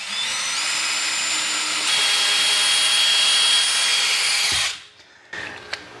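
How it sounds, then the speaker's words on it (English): An electric drill runs at high speed boring a small pilot hole through a floor, its whine holding steady and rising slightly in pitch before cutting off, followed by a few light knocks and clicks, close and loud. "I'm going to drill a small pilot hole."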